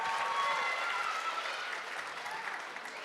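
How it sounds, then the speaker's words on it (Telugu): A crowd at an Ugadi celebration claps warmly for a children's group skit, a dense, sustained wash of applause that gradually eases off. "తమ కోసం మరొక్కసారి గట్టిగా చప్పట్లు"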